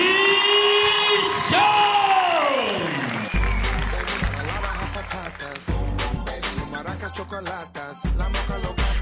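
An audience at a WLF kickboxing event in New Zealand claps and cheers, with shouts and whoops over the applause, while booming music with heavy bass hits plays loudly underneath.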